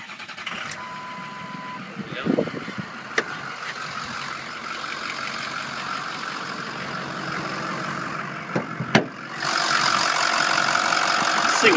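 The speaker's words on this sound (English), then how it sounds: "I'm going to start this truck and let you hear it under the hood." A 2005 Ford F450 truck engine cranks and catches, then idles steadily with the hood open for about ten seconds, close to the mic. A brief spoken remark comes near the start, and the idle swells louder at the end.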